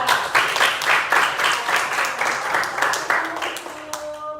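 A classroom of students claps for a classmate in rhythmic bursts of hand claps, fairly close and evenly paced, fading out near the end as a voice begins.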